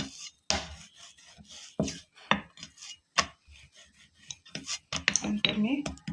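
A rolling pin works a ball of oiled pumpkin dough on a board, giving soft thuds, knocks and scraping rubs in an uneven rhythm, with someone talking quietly in between.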